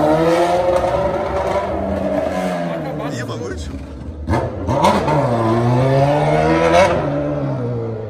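Honda Hornet motorcycle exhaust revving, loud and close: rising and falling engine pitch over several seconds, with people talking over it.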